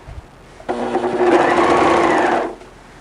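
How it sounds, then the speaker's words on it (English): A serger overlocker runs alone for about two seconds, chaining off and trimming the edge of velvet fabric with a fast, even, close mechanical whir that starts and stops abruptly. "just to make sure your serger is threaded correctly, is just chain off a little bit"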